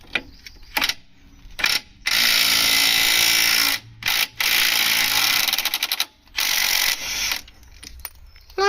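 Impact wrench with a 30mm high impact socket hammering loose a rear wheel hub nut on a Mk6 Ford Fiesta, several loud rattling bursts separated by short pauses, close up in a workshop.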